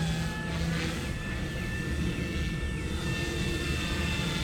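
Blade 150S RC helicopter flying, a continuous whining rotor and motor hum with steady high tones, fairly close and loud with no voices.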